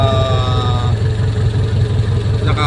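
A stock Toyota 4K car engine converted to a carburetor idles steadily and loudly up close, a continuous low throbbing rumble with no revving.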